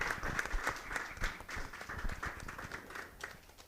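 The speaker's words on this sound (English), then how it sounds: "that deserves a round of applause" An audience applauds at a book launch for Jon Key. Scattered, distinct claps from a modest crowd come in an uneven patter that thins out toward the end.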